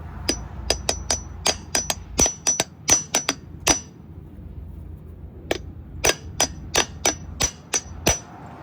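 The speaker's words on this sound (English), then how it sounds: "Now we're gonna pound out the old seal." Sharp metallic hammer blows pound out an old seal on a six-speed swapped Subaru Forester, coming in two rapid rhythmic bursts of about a dozen clanging strikes each, close and loud, separated by a short pause.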